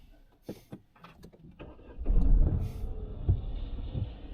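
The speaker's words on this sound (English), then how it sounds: "Let's start the engine then, clutch down." Car engine starting with the clutch down during a driving lesson: a few faint clicks and ticks, then the engine catches and settles into a low steady idle.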